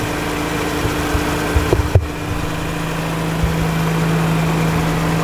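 A warmed-up Mazda RX8 rotary engine idling with worn engine mounts, a steady low hum with a faint whine, broken by a few brief knocks near the middle.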